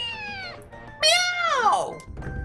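A cat meows in the video game Naruto Ultimate Ninja Storm, two drawn-out tonal cries, the second louder and sliding downward, over soft background game audio.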